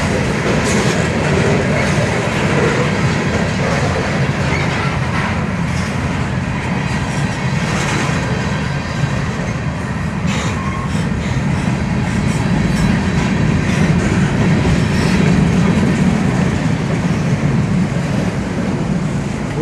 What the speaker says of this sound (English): Trains feel like earthquakes.